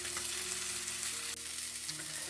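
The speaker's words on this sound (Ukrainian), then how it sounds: "Зараз я обжарю рибку спочатку" River fish fries in oil in a pan, giving a steady close-up sizzle and hiss with a faint low hum beneath, continuous and without talk.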